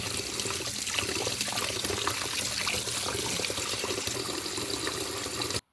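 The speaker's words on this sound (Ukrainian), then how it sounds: "Беремо цю жижку на друшляк і вимиваємо над проточною водою." Cucumber seed pulp rinsed in a colander under running tap water gives a steady, close pouring and trickling rush with no talk, cutting off abruptly just before the end.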